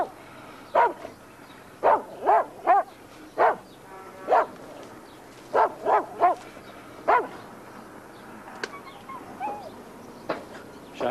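A dog barks in short repeated bursts, mostly in pairs and triplets, fairly close and loud with quiet gaps between them, and no voices over it.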